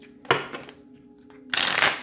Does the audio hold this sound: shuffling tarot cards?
yes